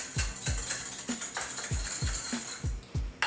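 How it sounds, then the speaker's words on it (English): Wire whisk beating a pasta salad dressing of vinegar, Dijon, kosher salt and black pepper in a bowl, a run of about eight quick rhythmic clicking strokes, close and moderately quiet with no talk. "Give that one last whisk."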